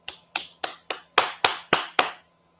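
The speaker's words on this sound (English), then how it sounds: "I can clap" Eight sharp hand claps in a steady, fairly quick rhythm, close to a normal computer microphone, each a crisp broadband burst with no talking over them.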